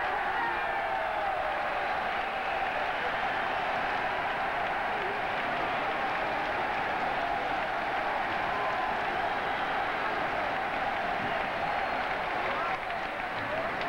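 A boxing arena crowd roars loudly after the referee stops a title fight between Jung Koo Chang and Agustin Garcia. The din is thick and continuous, with applause throughout and a commentator's voice running over it.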